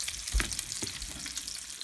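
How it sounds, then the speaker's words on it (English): Bacon fries in a pan with a continuous close crackling sizzle and a few louder pops, and no voices. "That'll give us time to finish cooking the bacon."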